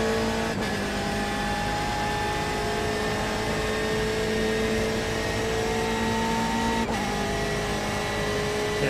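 Race car engine accelerating on a long straight at Daytona in the iRacing video game, a sustained loud engine whine with tones climbing steadily through the gears, heard alone without talk.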